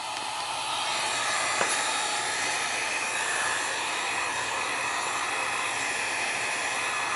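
A heat gun blows hot air while being used for an iPad Mini screen replacement, a steady, broadband rushing hiss that starts at once and holds evenly throughout, close and alone.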